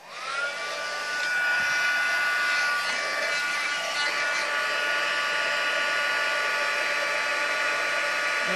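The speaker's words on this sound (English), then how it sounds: "bring in the heat gun again" A heat gun used for heat embossing on a stamped papercraft gift box blows with a steady, loud whooshing hum. It spins up quickly and holds an even tone close by, with no talking.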